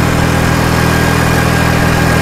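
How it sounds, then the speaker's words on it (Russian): An old Soviet Ural motorcycle idles close and steadily, its engine and exhaust giving off a dense, even rumble with no change in pitch or rhythm. "Хрена у тебя выхлоп."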